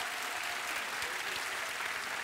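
Continuous audience applause in a Korean comedy show studio, a dense even wash of clapping from the crowd throughout, moderately distant and with no voices over it.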